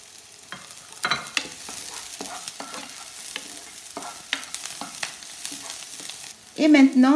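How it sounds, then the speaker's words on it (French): Minced garlic frying in a pan with translucent onion is stirred steadily, a spoon scraping and tapping in repeated strokes over a soft sizzle, ending with a louder clatter. "Ensuite, l'ail émincé et je remue bien"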